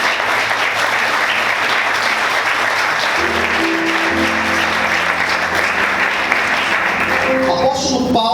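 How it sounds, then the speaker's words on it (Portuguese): A church congregation at a worship service applauds loudly and steadily throughout, with sustained crowd clapping and a faint voice and music underneath toward the end. "Vamos aplaudir o Senhor bem forte"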